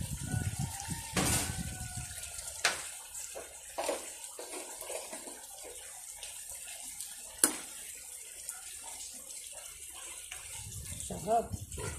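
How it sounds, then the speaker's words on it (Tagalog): Water is poured into a pan of sardines to thin the broth, a gushing splash at the start followed by quieter trickling and intermittent clinks, close up and fairly loud. "Lagyan ko ng tubig para dumami yung sabaw."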